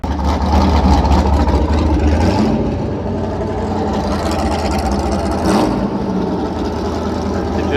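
Ford GT40 replica sports car engine running nearby at a classic car show, a steady deep rumble with a heavier surge at the start and a brief rise near the middle.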